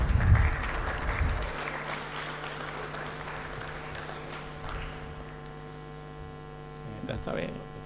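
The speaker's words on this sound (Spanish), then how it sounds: "Recibamos por favor con un fuerte aplauso al ingeniero Iván Rodríguez." Audience applause welcoming an engineer onstage at a petroleum industry conference, a loud burst of clapping at the start that quickly fades into a steady electrical hum, with a brief bump of noise near the end.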